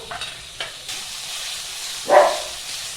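Onion paste frying in oil with ginger and garlic for an egg, pea and potato curry: a quiet, steady sizzle with one brief louder burst of stirring or fresh paste hitting the pan, no talk.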